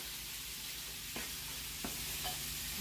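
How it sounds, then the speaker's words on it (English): Food stirred in a pan over a constant hissing sizzle, with a few faint scrapes of the utensil standing out now and then. "Finish stirring that up in there."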